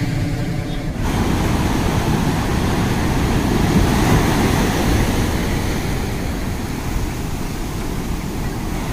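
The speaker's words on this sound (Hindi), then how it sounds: "गाइस लहरें बहुत ही गहरी है" Ocean surf on a beach at Visakhapatnam, a steady loud wash of breaking waves and wind rumble that fills the whole stretch without pause.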